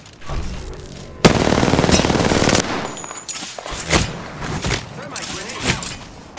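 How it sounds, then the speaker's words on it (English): Enemy gunfire in Apex Legends: bursts of rapid automatic shots and sharp single cracks, close and loud, with game sound effects and brief voice lines mixed in. "The enemies are shooting me."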